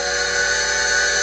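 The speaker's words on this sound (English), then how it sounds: "he puffed up to Thomas and whistled to wake him up" A cartoon steam engine from Thomas & Friends gives a short, steady, bright whistle blown in a rail yard, one sustained note lasting about a second.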